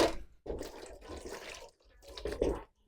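Water running and splashing as a watermelon is washed for a coconut-milk dessert, coming in close bursts with short pauses between them.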